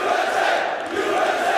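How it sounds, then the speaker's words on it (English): A large esports crowd at a CS:GO tournament in Columbus, Ohio roars continuously, a dense wall of cheering and shouting that swells slightly and never drops away. "it's just amazing to come here and see everyone cheering so much"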